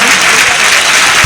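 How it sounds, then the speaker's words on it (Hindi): Audience applause at an all-India mushaira poetry gathering in Malegaon, loud continuous clapping from a large crowd, close and steady with no break. "एक बार जोरदार तालियां बजा दें।"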